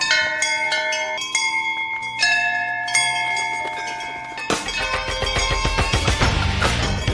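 A ringing bell struck by a thrown ball, with clear bright bell tones ringing out and decaying, followed by a dense burst of louder sound.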